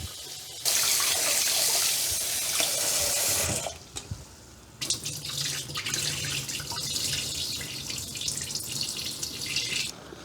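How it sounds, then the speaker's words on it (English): Running tap water pours steadily into a pot of rice being rinsed, with a brief pause partway through before the flow resumes, loud and close with no talking. "let's rinse the rice. I like to rinse it a couple of times"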